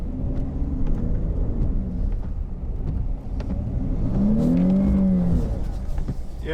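A Dodge V6 car with traction control off accelerates hard on fresh snow, its engine rumbling steadily and rising in pitch as it revs up, close and sustained throughout.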